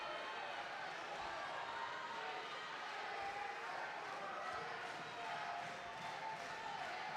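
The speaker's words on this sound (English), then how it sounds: "You can hear the home crowd screaming A2, A2, that's for Heinonen." A home crowd roars at a judo contest, a dense, continuous wash of screaming voices at moderate distance with faint rhythmic swells of chanting, and a commentator's voice carries over it.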